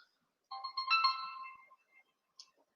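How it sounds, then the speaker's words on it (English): A mobile phone ringtone plays a single melodic ring of about a second at moderate volume, with one faint short blip after it and no speech. "Oh, my phone's ringing."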